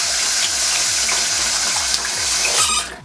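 Makeup brushes are rinsed under a running tap, a steady close hiss of water splashing into a sink that continues throughout and tapers off at the very end.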